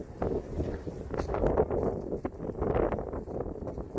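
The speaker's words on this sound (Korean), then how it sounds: "바람이 심하게 불어요" Strong gusty wind roars and buffets the microphone at an outdoor jokgu final for a 50s age division, a steady rough rumble with faint knocks underneath.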